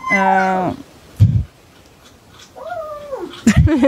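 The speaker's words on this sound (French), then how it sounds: "c'est un petit chat qui boit de l'eau et qui fait oui" A small cat drinking water gives out several short, tonal meow-like calls, a long one at the start and a rising-falling one later, with soft lapping bumps in between.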